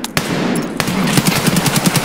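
Rapid automatic gunfire in the video game Escape from Tarkov, a dense stream of loud close-range shots with sharp bursts stacking into a steady rattle throughout.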